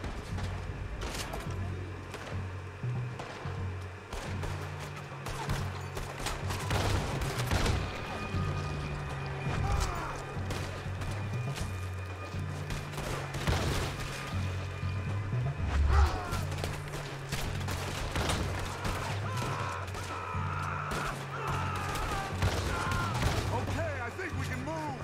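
Rifle shots in the western game Red Dead Redemption 2, sharp cracks scattered irregularly through a busy gunfight with music and voices running underneath.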